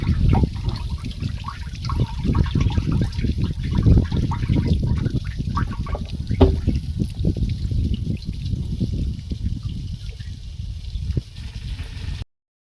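Water runs steadily into a barrel for drip irrigation of a cotton field, where fertilizer is being dissolved, a continuous close trickling and gushing flow with no voices.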